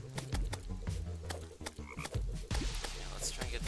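Nuclear toads in Terraria's Calamity mod croak in a rapid string of short, punchy game sound effects during an acid rain event, layered over busy in-game noise.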